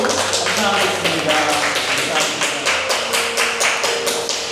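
A church congregation at a revival service claps in thanks, a dense steady applause with a rhythmic, nearly unison beat throughout, with voices mixed in.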